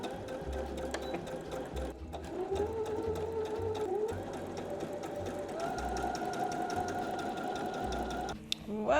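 A sewing machine top stitching a summer dress in green thread runs in quick, steady bursts with short pauses, its motor whirring and needle chattering close by at a low level.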